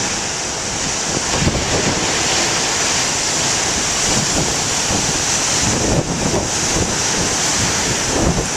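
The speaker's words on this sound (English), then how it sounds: "The waves are pretty damn good this morning." Big morning ocean surf breaks on the shore in a loud, continuous roar, with heavy wind buffeting the microphone and surges of crashing water throughout.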